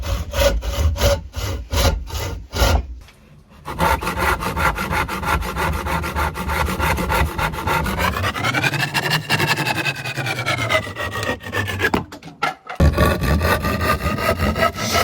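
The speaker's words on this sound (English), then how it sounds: "now need to cut along those lines to make sure that I have the right size pieces" Hand saw cutting wood pieces for a DIY planter: steady, rasping back-and-forth strokes, loud and close, with a short pause before sawing resumes in a long continuous stretch.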